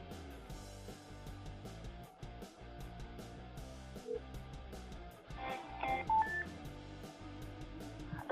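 A phone dials DoorDash support, a few short touch-tone beeps sounding near the end over busy background music, fairly quiet and brief.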